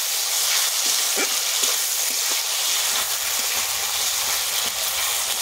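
A paste of ground ginger, garlic and green chili fries in hot oil, giving a steady, close sizzle with a few soft stirring knocks, heard alone throughout.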